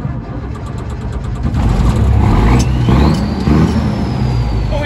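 An M35 Reo deuce-and-a-half military truck engine cranks and catches, rising into a loud, steady, rough diesel-like rumble close by, with a faint whine over the running engine.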